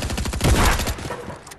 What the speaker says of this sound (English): Oh, I thought that was you shooting.